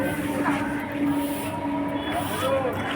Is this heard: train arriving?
yes